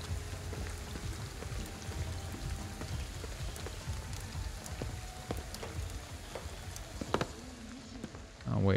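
Steady rain patters throughout in the video game Ghostwire: Tokyo, a constant wash of drops hitting surfaces, with brief louder splashes near the end and faint voices at moments.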